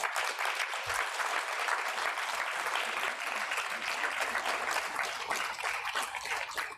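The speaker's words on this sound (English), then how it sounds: "Please clap, please clap." Audience applause at an alumni summit, a dense steady clapping from a sizeable crowd filling the whole stretch, loud and continuous without breaks.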